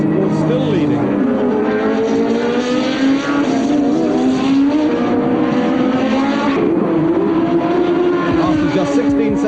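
Formula 1 cars from the 1983 season, a Ferrari and a Brabham, scream past with loud, sustained high-revving engine whine, the pitch rising and falling as they pass, with commentary talking over them.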